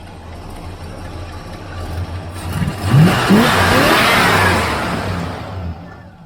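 A 1966 El Camino's 350 small-block V8 (5.7 liters, 4-bolt main) idles, then revs hard, with the engine note climbing sharply, holding high, and easing back down, loud and close with no talking.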